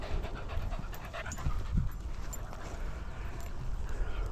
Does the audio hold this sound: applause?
no